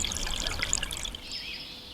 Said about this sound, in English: He used the Arctic sounds of water and ice melting in his music.